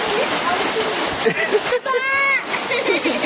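Heavy rain pours down as a steady, dense hiss of splashing water, loud and continuous, with voices talking over it throughout.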